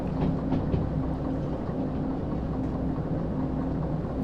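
A heavy freight train in the Derail Valley simulator gathers speed on a steep downhill grade, with a steady rolling rumble and a faint rhythmic clickety-clack of wheels over rail joints throughout, no voices.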